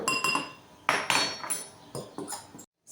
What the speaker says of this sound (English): And then you mix that together with a fork.